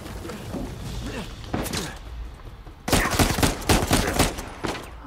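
Gunfire in the Uncharted 4 video game: a burst of sharp, loud shots and rapid volleys dominates the second half, following quieter sounds and faint speech early on.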